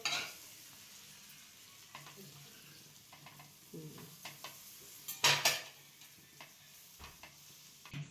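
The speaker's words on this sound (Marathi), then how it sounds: "बघू शकता इथं मस्त असे खरपूस पाव भाजलेले आहेत" Pav buns toast in butter on a pan for pav bhaji with a quiet, low sizzle, broken by scattered scrapes and clinks of a spatula against the pan, including a louder clatter partway through.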